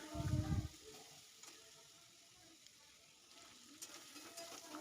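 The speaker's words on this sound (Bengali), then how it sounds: "দেখো খুব সুন্দর করে আমি চালিয়ে নিচ্ছি" Potato, soybean and jackfruit seed curry is stirred in a pan, opening with a short louder scrape and then a soft, steady sizzle of frying with faint clinks.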